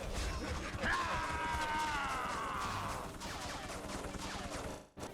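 Turret gunfire inside a level of the game X2: Wolverine's Revenge: a dense, rapid clatter of shots and impacts mixed with metallic ringing and crashes, with some talk underneath.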